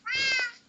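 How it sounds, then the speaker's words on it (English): A cat meows once in Minecraft, a long, clear, bright meow lasting most of a second, followed by a short soft blip at the end. "It would be nice if we can catch one of each type of cat."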